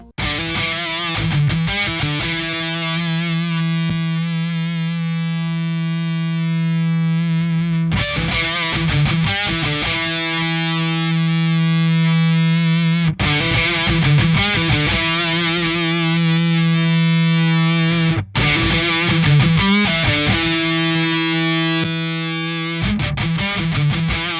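A distorted electric guitar solo plays through a Hughes & Kettner Spirit AMPMAN Modern analog pedal amp with a boosted volume. Sustained, saturated notes and bends carry on loud and continuous for over twenty seconds, with no talking.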